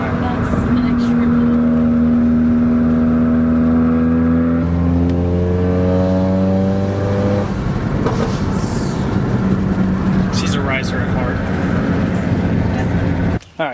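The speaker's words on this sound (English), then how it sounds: "This thing pops more than any car I've ever heard." A straight-piped Mercedes CLA45 AMG engine drones and revs loudly, its pitch sliding as the revs change, with a few sharp exhaust pops and cracks, while people talk nearby.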